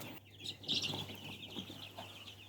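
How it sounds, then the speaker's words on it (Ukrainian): Chickens cluck softly nearby, with a few brighter squawks and chirps over a quiet background hum. "І зараз підемо до курочок."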